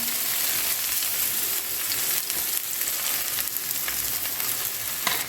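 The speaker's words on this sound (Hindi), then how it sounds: "तो अब हम इसे फ्राई करेंगे।" Radish paratha frying in ghee or oil on a pan over medium heat, a steady dense sizzle that holds loud and unbroken throughout, with no voices.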